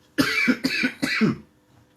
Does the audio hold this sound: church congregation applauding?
no